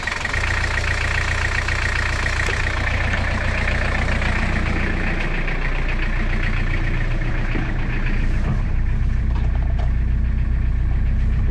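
Diesel engine of a Toyota 4Runner on solid axles and mud tyres idling steadily after a cold start, a close, continuous low rumble with an even throb and no talk over it.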